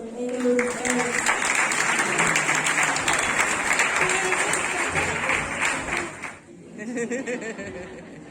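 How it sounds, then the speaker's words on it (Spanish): Strong audience applause at a school poetry and short-film event, loud dense clapping that sustains for about six seconds, then dies away as a speaker begins talking. "Un fuerte aplauso"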